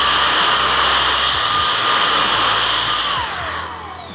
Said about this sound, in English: Look what came in at JC Cayer, the brand new M18 precision blower.